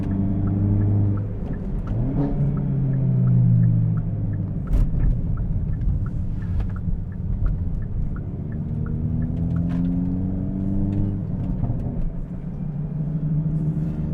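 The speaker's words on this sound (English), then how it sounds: "There's that auto rev match." A modified 340 whp Hyundai Elantra N's engine blips itself to match revs on a downshift, rising and falling in pitch over a steady loud cabin rumble, with no one talking.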